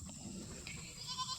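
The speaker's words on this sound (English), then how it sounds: "I was just going to give y'all an update on our goats" Goat bleating in a farm pasture, a faint brief bleat over quiet outdoor background, no talk.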